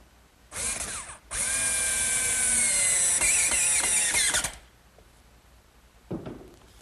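A power drill bores blind screw pockets through a pocket-hole guide into wood for a bookcase, one long loud whining run of about three seconds after a brief start, winding down, then a faint knock.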